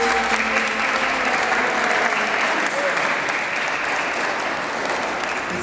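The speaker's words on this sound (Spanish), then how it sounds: "y le damos un aplauso, Simón." Guests at a combined baptism and birthday party clap together in a steady, dense round of applause that fills the room, with faint voices mixed in beneath it.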